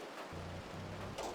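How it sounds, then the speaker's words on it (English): Hail and rain pour down in the Outbrk storm-chasing video game, a steady dense hiss with a low droning hum underneath, no voices. "as soon as our probe gets something, we have to go through the annoying hail"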